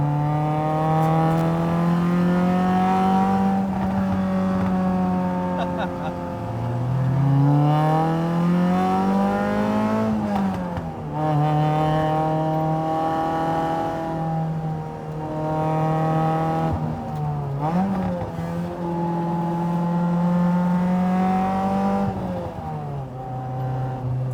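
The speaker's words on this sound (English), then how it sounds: "and you blip that throttle" Toyota AE86 Corolla widebody with a 4AGE engine revving hard, its loud, close, buzzing note rising and falling through repeated throttle blips over a sustained run, with no talk.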